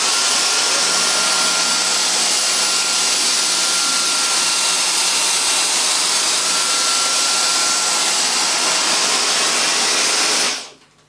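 A Dyson DC35 Digital Slim cordless vacuum cleaner runs on maximum mode over carpet, giving a loud, close, steady high-pitched whir that holds for about ten seconds and then quickly winds down to silence.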